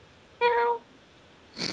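A house cat gives one clear, close meow, followed after a short pause by a brief breathy rustle.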